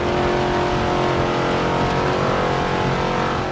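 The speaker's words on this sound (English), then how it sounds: "I'm pushing this car to the limit." An old muscle car races in the Forza Motorsport 7 video game, its engine a loud, steady roar held at high revs throughout, with no talk over it.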